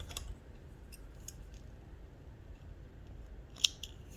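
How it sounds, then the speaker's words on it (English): A single crisp snip of scissors cutting embroidery thread on a chain stitch embroidery project, heard once, brief and close, against a quiet, low room hum. "I'm going to cut the thread from below."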